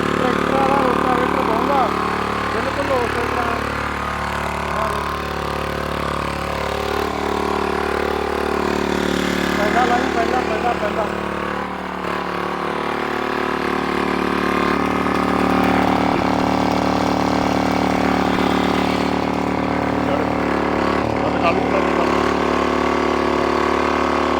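A heavy diesel engine runs steadily throughout with a low, throbbing drone, close and loud, with faint voices occasionally under it.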